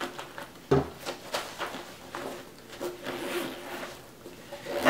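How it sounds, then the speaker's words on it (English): A double-sided zipper on a pouch is drawn along in short, repeated close scratchy strokes with light handling clicks, with no voices. "this double-sided zip is wonderful because now I've got this part zipped closed"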